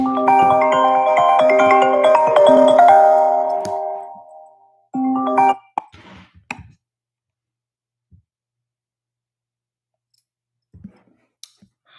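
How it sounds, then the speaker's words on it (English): A phone ringtone from an incoming call plays loud and close as a tonal, chiming melody for about four seconds. A brief second burst follows, then scattered clicks and handling noises over near silence. "I got a phone call."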